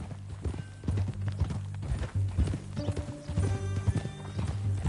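Horse hooves clip-clop at a steady trotting rhythm in Red Dead Redemption 2, close and fairly loud, over a constant low ambient hum and some musical tones.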